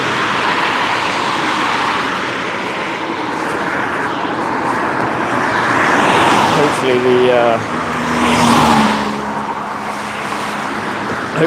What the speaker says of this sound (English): traffic dies down a bit after rush hour.